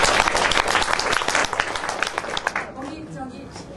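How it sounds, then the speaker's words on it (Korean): Members at an alumni general meeting break into a burst of dense clapping that thins out and fades toward the end, with voices murmuring underneath. "박수로 한번 부탁드립니다"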